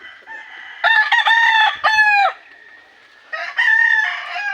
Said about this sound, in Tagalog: Pasilip na lang muna ako sa mga manok ha.